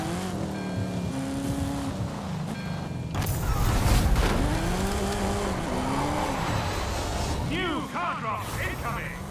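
A level 9 Ford Fiesta racing in a driving video game: a continuous engine drone that rises and falls with gear changes, with a burst of crash noise and tire squeal, and someone talking over it.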